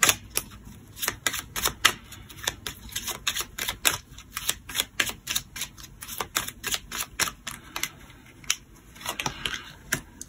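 Tarot cards being shuffled and drawn during a reading, giving a steady run of crisp, close flicks and snaps that repeat quickly for the whole stretch with no talking.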